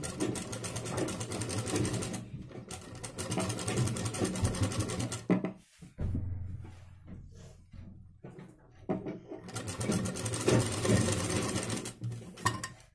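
A sewing machine stitches piping onto a blouse, running in steady mechanical bursts close by, stopping briefly midway with a few slow single stitches before speeding up again.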